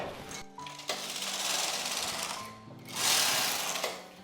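A knitting machine carriage is pushed back and forth across the needle bed, knitting a couple of rows: two loud, sustained mechanical rasping sweeps with a brief pause between them, close and clear with no talking.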